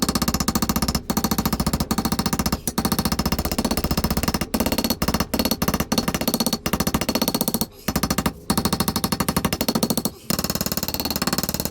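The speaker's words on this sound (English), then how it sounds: "I'm just going to grind a bit more of this face off now" A grinder works down the face of a surface, a loud, continuous, harsh buzzing grind held close for several seconds, broken by brief cuts in power, with no voices.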